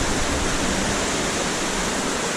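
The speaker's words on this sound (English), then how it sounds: "I bet we're getting close to that waterfall. 'Cause I hear it." A waterfall inside a river cave roars as a loud, continuous rush of falling water, a dense unbroken wash of sound that stays steady throughout, with no talk.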